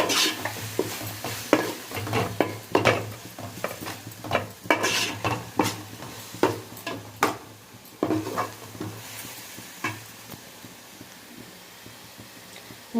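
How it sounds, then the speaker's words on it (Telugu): Spoon stirring fish curry in a pan, with repeated scraping clinks against the metal and a soft sizzle underneath, close and fairly loud in an irregular rhythm. "ఇది బాగా కలుపుకోవాలి ఇలాగా."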